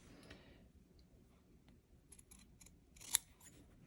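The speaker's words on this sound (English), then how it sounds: "So we're going to cut in at an angle on both of those." Scissors snip through fabric at an angle while trimming a sling bag pocket flap, a few quiet cuts with one sharper snip near the end, close and faint with no talking.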